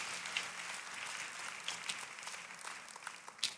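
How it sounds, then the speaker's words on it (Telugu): A church congregation claps loudly during a Telugu sermon, the applause a steady, faint wash of many hands with a few sharper bursts, heard at a distance without voices. "దేవునికి గట్టిగా చప్పట్లు కొడదాం"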